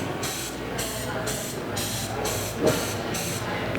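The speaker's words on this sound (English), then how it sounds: "take that pan spray and go ahead and spray it down the sandwich" Repeated short hissing bursts of a cooking oil spray can coating a sandwich, about seven evenly spaced sprays close by.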